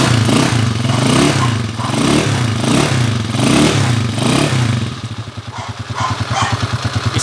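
A Kawasaki TMX155 motorcycle with contact-point ignition runs close by, its single-cylinder engine revving in rhythmic waves and then settling into a steady, even idle pulse, with no talking.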